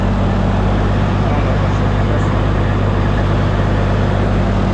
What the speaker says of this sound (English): Sorry about the noise. We're right beside this truck that's straight piped also.